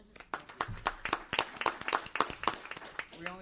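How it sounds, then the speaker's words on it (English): An audience at a city council meeting claps in a steady run of sharp, close hand claps lasting several seconds, with murmured voices faintly underneath. "Let's give him another round of applause."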